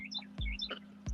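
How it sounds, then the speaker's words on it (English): Wild birds outside near a porch give a few short, faint high chirps against a low steady hum, interspersed with soft thumps, like dew dripping on a roof. "Those birds, yeah, I like those birds."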